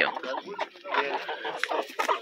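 Chickens clucking at a busy poultry market in Girau do Ponciano, Alagoas, a dense, continuous jumble of nearby fowl calls under vendor and buyer chatter.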